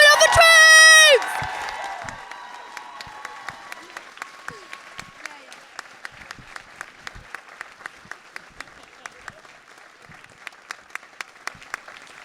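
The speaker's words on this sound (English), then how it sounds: "We need a fat round of applause for the director who this would not be possible without." Theatre audience bursts into loud applause, cheering and whoops for the director after a Legally Blonde stage production, with dense clapping at the start that thins into scattered claps and a few late bursts.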